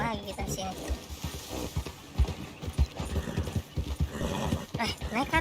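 A horse's hooves clip-clop unevenly over ground in Red Dead Redemption 2 as it climbs a mountain, with game music and someone talking over the steps.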